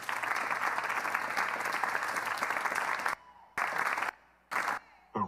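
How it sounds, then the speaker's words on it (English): Crowd applause at a dance awards closing show in Las Vegas, a dense, loud roar of clapping that runs steadily, then cuts off abruptly and returns in short bursts separated by silence. "Let us take a round of applause for the stillness."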